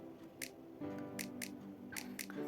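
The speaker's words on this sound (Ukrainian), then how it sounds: "поки що миємо пензлик" A paintbrush swishes and taps in water while being rinsed during a children's painting session, faint wet splashes and clinks repeating irregularly.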